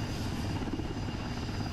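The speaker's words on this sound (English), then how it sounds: "that Seahawk helicopter is hovering over a moving ship" A Navy Seahawk helicopter hovers over the deck of a moving aircraft carrier, its steady rotor and engine roar filling the air at a moderate distance with no voices.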